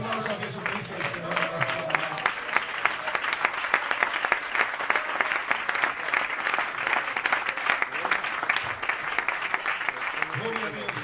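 A church congregation at a Spanish missionary sermon breaks into loud, sustained applause that fills the space steadily for the whole stretch, with voices mixed in under the clapping.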